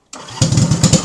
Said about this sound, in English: Key on, choke on, engine on. Let's see if she starts up.